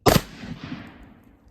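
A single loud shotgun blast fired outdoors, a sharp close report followed by a fading rumbling echo that trails off over about a second.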